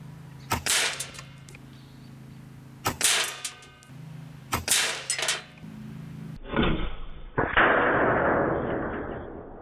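A RAW HM1000X LRT air rifle, the 2022 long range target model, fires pellets off its regulator in three sharp, loud shots spaced about two seconds apart, followed by a louder crack and a sustained rushing burst.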